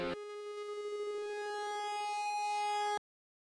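A harsh, buzzy synthesizer tone rich in overtones with a pulsing tremolo holds for about three seconds, swelling slightly in level before cutting off abruptly into silence.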